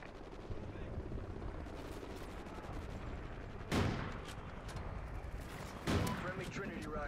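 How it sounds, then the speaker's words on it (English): A helicopter drones overhead in Call of Duty Ghosts, a steady rotor hum underneath repeated gunfire pops and two louder sharp blasts, with a voice talking over the battle. "Friendly chopper inbound."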